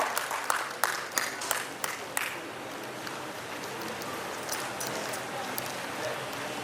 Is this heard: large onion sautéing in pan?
no